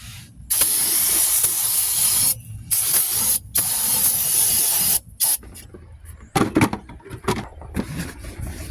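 Brake cleaner sprayed onto a 700R4 transmission valve body in loud, hissing bursts, several long sprays separated by short pauses, then quieter rubbing and handling noises.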